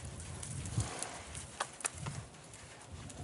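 A horse walks in an outdoor riding clinic, its hooves landing in soft, faint clip-clop steps spaced unevenly against a low background.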